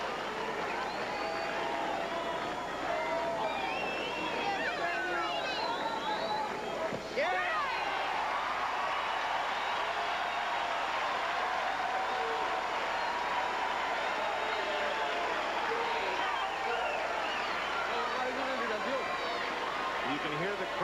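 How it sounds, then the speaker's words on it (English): Partisan baseball stadium crowd at a 1993 Little League World Series game, a steady roar of cheering and clapping swelling throughout, with a commentator's voice over it. "You can hear the crowd begin to get into this game"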